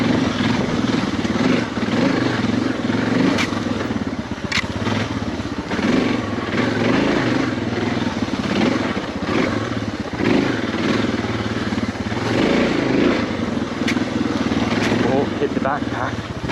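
A big adventure motorcycle rides single track through the woods, its engine droning loudly and continuously with small throttle swells and clatter, while a rider talks over the steady noise.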